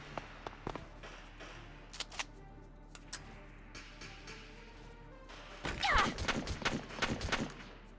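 Gunshots in the video game Valkyria Chronicles: sparse scattered pops early, then a dense burst of rapid cracking fire near the end, with faint background noise between.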